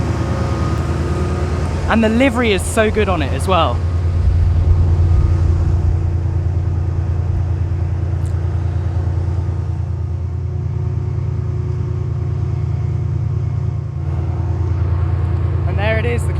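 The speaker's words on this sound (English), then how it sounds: "I love that roar of the engine" A Class 68 diesel locomotive hauling a British express gives a steady, loud low engine drone that runs the whole time beneath a voice.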